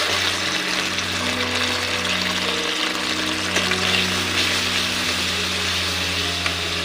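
Garlic paste frying in a pan with onion for Kashmiri aloo dum, a loud continuous hiss with a steady low hum underneath, close and unbroken, no voices.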